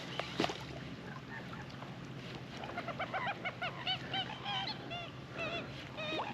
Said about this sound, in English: got freaking birds coming after me